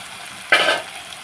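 Chopped onions and green chilies drop into hot oil and start frying, setting off a sudden loud sizzle that fades over about a quarter second, heard up close with no talking.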